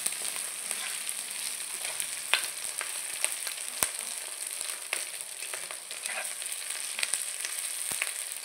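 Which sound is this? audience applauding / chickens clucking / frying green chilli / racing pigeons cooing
frying green chilli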